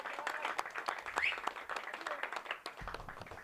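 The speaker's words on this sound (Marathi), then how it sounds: "सर्वांनी जोरदार टाळ्या वाजूया." A crowd at a local cricket match claps in a steady, fairly faint patter of individual hand claps, with a low thump near the end.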